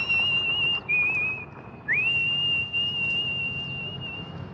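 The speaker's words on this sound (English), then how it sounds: "the tune she's whistling is taken from the 1968 thriller Twisted Nerve" A single person whistles a steady, high, sustained tune, the 1968 thriller Twisted Nerve melody, with a brief break and a short upward slide partway through, over low background hum.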